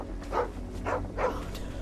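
A dog barking in the video game Final Fantasy XVI, three short moderate barks at an even pace over a low steady background hum.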